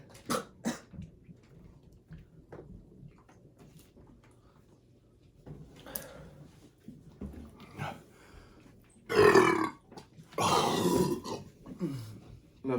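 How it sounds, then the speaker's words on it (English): A person burps loudly after drinking Coke, with two long rumbling belches following scattered softer sounds and brief vocal noises. "He burped though"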